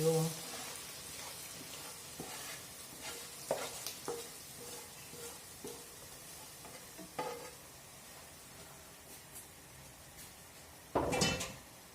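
Faint sizzling of onions frying in fat in a pan, with occasional clinks and stirring scrapes, and a louder clatter near the end.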